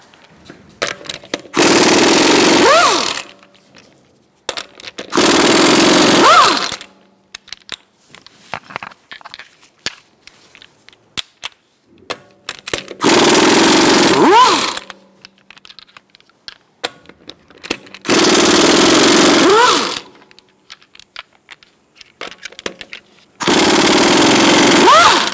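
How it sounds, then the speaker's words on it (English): A wrench with a 19mm socket removes the front wheel lug nuts on a 2012-2018 Ford Focus, giving five loud buzzing bursts of about a second and a half each, separated by quieter clicks and handling noises. "Using a 19mm socket, we're going to remove our wheel."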